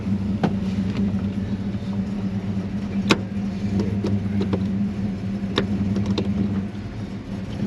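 A Holden Premier HQ sedan drives along, its engine a steady mid-pitched hum with road rumble, occasional clicks and knocks from inside the cabin, heard from within the car at a constant level.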